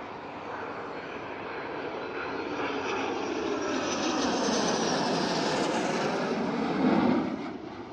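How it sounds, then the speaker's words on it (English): Several very different aircraft flying together in formation, a loud, continuous engine roar that swells steadily through the middle and peaks briefly near the end, with no voices. "These very different planes flying in formation."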